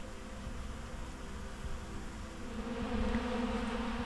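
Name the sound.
honey bees at a feeder eating pollen substitute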